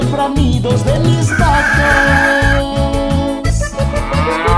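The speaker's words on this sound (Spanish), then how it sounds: "Con el cantar de los gallos," Roosters crowing on a ranch, set within music: a loud, drawn-out crow rises over a rhythmic instrumental band accompaniment with a steady beat, with no talking.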